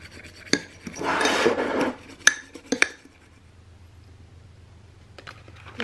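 A metal fork scrapes and mixes cosmetic product in a dish, giving a close, rasping stir followed by several sharp clicks and taps of the fork against the dish, then near quiet.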